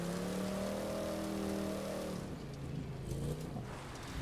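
Dodge Charger R/T Hemi, a heavy classic muscle car in the video game The Crew 2, with a steady engine drone that fades partway through into a softer rumble, moderate and alone without talk.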